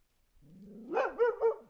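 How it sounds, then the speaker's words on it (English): A dog barks a few times close by, a short run of quick, fairly loud barks with a slight growling edge, with no voices around it. "I don't know what Sage is barking at."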